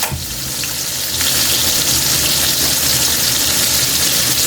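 Chicken frying in hot oil, a loud, steady, close crackling sizzle that swells after the first second and holds continuously.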